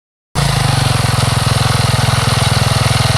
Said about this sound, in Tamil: இந்த ஸ்கூட்டர் சத்தம் கேட்குது அத்தை